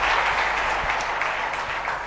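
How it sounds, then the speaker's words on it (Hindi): A seminar audience gives a loud, sustained round of clapping, dense and even throughout, with no one speaking over it. "एक बार जोरदार ताली बजाइए"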